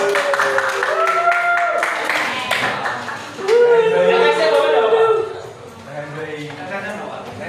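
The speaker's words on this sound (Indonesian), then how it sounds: "Kasih tepuk tangan dong buat Rehan" A school class gives a round of applause for a classmate, a scattered patter of hands clapping heard beneath prominent, lively voices talking and calling out.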